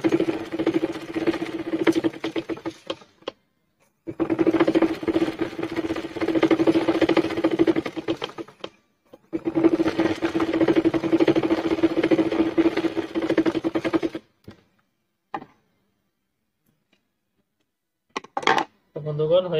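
A sewing machine stitches a zipper safety pocket onto a salwar, running in three steady stretches of humming motor and needle rattle with quiet pauses between, followed by a few faint clicks.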